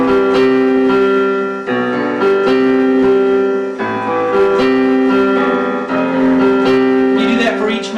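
Piano plays a steady chordal pattern with full low left-hand octave bass notes under the melody, loud and close, with no voices.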